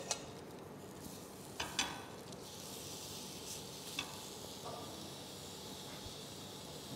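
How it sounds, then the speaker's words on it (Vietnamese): Mushrooms and bok choy pan-sear in a hot pan with a soft, steady sizzle and hiss, broken by a few faint clinks and scrapes. No one speaks. "Sau khi các bạn thấy chảo nóng, mình bắt đầu mình cho nấm vào, mình áp chảo nó. Song song đó các bạn áp chảo cải thìa luôn."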